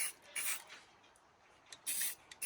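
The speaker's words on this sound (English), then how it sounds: "I'm just going to spray this tail section black" Black spray paint hisses from an aerosol can onto the tail section of a petrol radio-controlled buggy in short close bursts, two longer sprays with a few brief puffs between quiet gaps.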